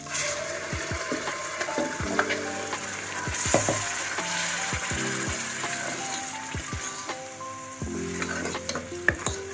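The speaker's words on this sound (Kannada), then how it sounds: "ನಾನೀಗ ರುಬ್ಬಿರೋಂಥ ಮಸಾಲೆನ ಅದಕ್ಕೆ ಹಾಕ್ತಾಯಿದ್ದೀನಿ." Ground masala frying in oil for country-chicken sambar, a loud continuous sizzle broken by frequent scraping and clattering strokes of a ladle against the pan.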